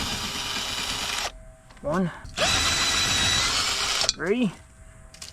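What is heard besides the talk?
old Craftsman 18 volt drill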